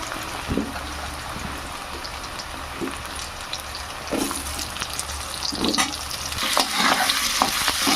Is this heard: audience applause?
no